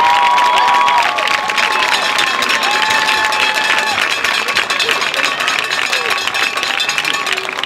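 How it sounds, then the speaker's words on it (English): A high school football crowd at Hedgesville High applauds and cheers for the senior players, a thick wash of clapping and shouts with whistle-like tones, loud and continuous, with voices mixed in. "Let's give a round of applause to all the senior members of the Hedgesville High football team."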